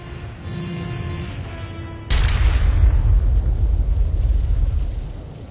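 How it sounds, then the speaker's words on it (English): Enemy artillery in a video game lands as a single heavy boom that cuts off a steady tonal drone, followed by a loud, sustained low rumble that slowly fades. "Enemy artillery is going to make any large-scale deployments very messy."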